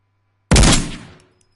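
A single sniper rifle shot in the VR game Ghost of Tabor, a loud, sharp crack with a booming low end that rings out and decays over almost a second, alone with no talking.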